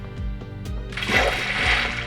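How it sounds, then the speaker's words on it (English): A Minecraft player character drops into water, giving a brief splash after a few quick blocky footstep-like taps, short and fairly close. "push towards the block so that you land in the water like this"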